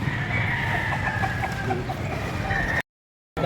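Talisayan chickens at a poultry market cluck and crow in a dense, continuous chorus, loud and close, before the sound cuts off abruptly into silence.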